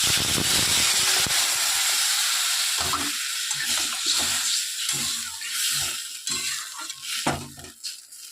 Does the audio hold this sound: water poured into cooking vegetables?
yes